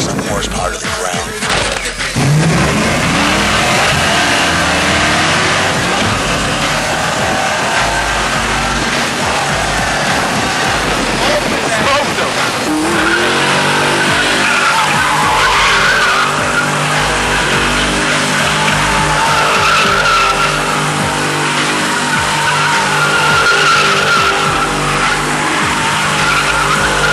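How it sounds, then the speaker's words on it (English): Boosted, built 306 race car with low-compression pistons, Trick Flow heads and 16 psi of boost, revving hard and skidding with long tire squeal, loud and close, with people talking over the engine throughout. "this is a built 306, low compression piston, trick flow heads, outblock intake, 16 pounds of mad boost"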